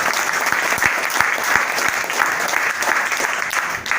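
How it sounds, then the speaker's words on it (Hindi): Vigorous crowd applause, many hands clapping continuously and loudly for several seconds, with a few sharper claps standing out. "अपने लिए तो तालियां अच्छी सी बजा लो।"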